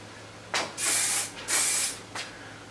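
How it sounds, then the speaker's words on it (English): Spray varnish from an aerosol can is applied to a painting, with two long hissing bursts between brief short puffs, close and fairly loud against a quiet room. "Spray varnish is lovely for this."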